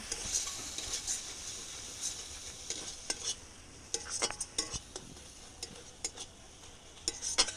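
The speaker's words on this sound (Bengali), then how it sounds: "এবারে ভালো করে নাড়িয়ে নেব।" Lote fish curry being stirred in a pan after rice flour batter is added, with repeated close metal scrapes and clinks of the spoon over a quiet, steady sizzle.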